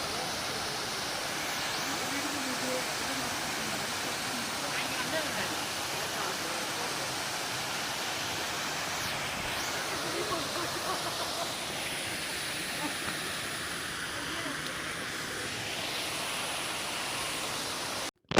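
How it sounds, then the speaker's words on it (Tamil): A waterfall at Kodaikanal pours in a steady, even roar of rushing water, continuous and moderately loud throughout, with no other sounds standing out. "அதுதான் வந்து அந்த ஃபால்ஸ்"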